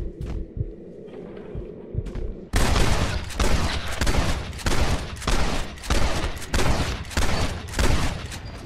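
A seeking revolver in a modded Fallout 4 game fires in a dense, rapid burst after a short quiet hum, loud repeated booming shots pounding steadily for several seconds.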